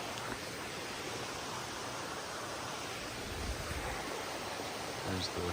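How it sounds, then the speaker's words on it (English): A waterfall on the Appalachian Trail pours down a forested valley, giving a steady, broadband rushing roar from start to end. The water sounds fairly near and even, and no other sound stands out. "I guess that might be the start of the waterfall, and it kind of just goes all the way down this valley right here"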